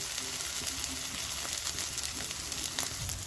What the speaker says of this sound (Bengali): দেখুন এখানে মশলাগুলো একটু ভাজা হয়ে গেছে।